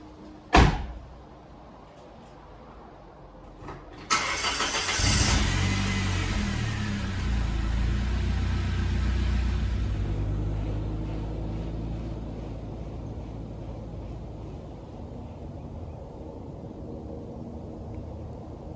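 A 1997 Saab 900 Turbo, just fitted with a new coolant temperature sensor: a door thunks shut, then the engine cranks, catches and revs before settling into a steady idle rumble that fades gradually.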